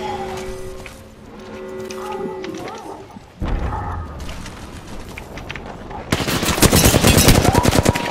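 SMG fire in a video game, bursts of dense rapid shots filling the last two seconds loudly after quieter game effects and tonal sounds.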